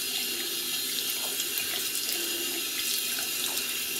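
Concentrated water from a tap pours steadily over budget waterproof cycling and hiking gloves, a continuous close hiss and splash with no break or voices.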